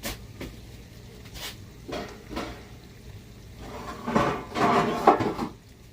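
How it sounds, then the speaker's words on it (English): Kitchen cupboard and pan noises while cooking caramelized onions: a few soft wooden knocks early on, then a louder cluster of clanks and rattles near the end as a pan comes out. "I'm going to get the other pan out."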